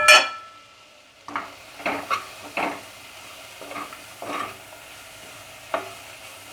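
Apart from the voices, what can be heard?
onions with salt and turmeric frying and stirred in pan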